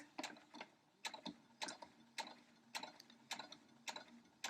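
Sewing machine stitching a lace panel onto a knit shirt, a faint, regular mechanical ticking and clatter in steady pulses about twice a second, running slowly and evenly with no speech.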